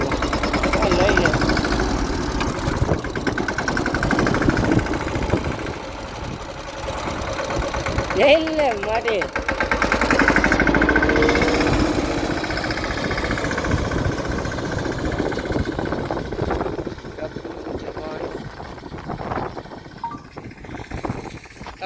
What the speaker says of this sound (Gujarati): તો મિત્રો ટ્રેક્ટર ભાઈનું એક નંબર છે કમ્પ્લીટ હાલે છે.